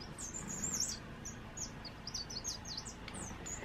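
A person whistles an imitation of finch song in a series of quick, high chirps and trills, fairly faint and with no talk.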